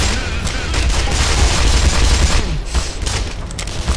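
Tank firing in Half-Life: Black Mesa, a dense, loud rumble of blasts and rapid gunfire over several seconds, heavy and close with little pause.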